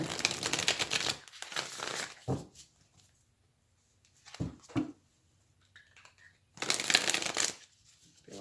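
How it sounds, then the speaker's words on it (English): Tarot cards being shuffled and drawn, with bursts of crisp riffling and flicking near the start and end, a few soft taps and slides of cards in between, and quiet pauses. "let's just pull a card for what is the actual potential here"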